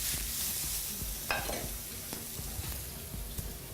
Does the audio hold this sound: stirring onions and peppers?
yes